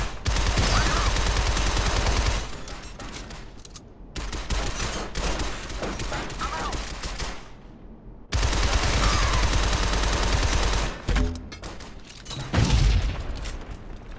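Enemy gunfire in the video game Shadow Complex, dense rapid bursts of automatic fire that fill the scene loudly in long stretches, broken by brief pauses, with no voices.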